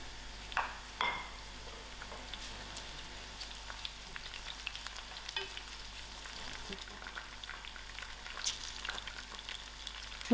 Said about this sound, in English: allow this mustard seed to pop. And then my green chilies and my curry leaf